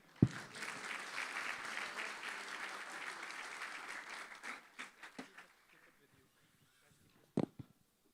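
Audience applause at a church Sunday School Christmas celebration, a steady wash of many hands clapping for about five seconds before thinning into scattered claps and a couple of sharp knocks near the end.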